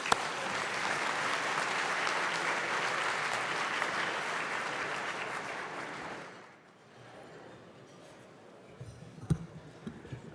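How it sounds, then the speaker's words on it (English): A full room of dinner guests applauds awardees at a summit networking dinner, steady dense clapping for about six seconds before it dies away into quiet room murmur and a few sharp knocks. "a final round of applause for our awardees"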